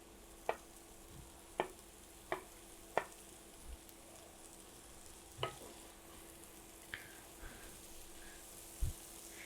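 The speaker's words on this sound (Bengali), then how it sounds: "এখানে আমি শাকগুলো এখন দিয়ে দিব।" Spinach greens go into a hot pan for a palak dal, giving a low steady sizzle broken by a handful of sharp scraping stir strokes at irregular intervals, fairly quiet and with no talking.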